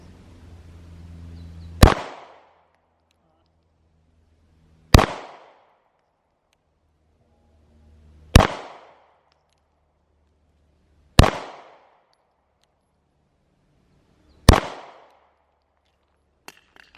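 Handgun shots on an outdoor shooting range: five sharp, loud cracks spaced about three seconds apart, each with a short decaying tail, with no talking between them.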